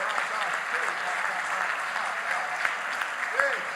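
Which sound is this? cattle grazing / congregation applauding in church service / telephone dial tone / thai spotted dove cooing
congregation applauding in church service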